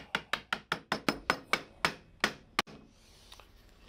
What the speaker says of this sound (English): We're gonna go ahead and put piece 2 and 3 together, and then give this one a little tappy tap tap.